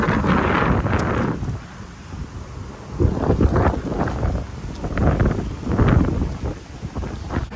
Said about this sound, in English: It's a windy day out here.